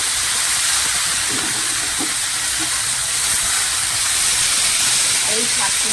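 Greens tossed into a pan of frying potatoes seasoned with turmeric give off a steady, close hiss of sizzling oil that fills the whole clip, with faint kitchen clatter underneath.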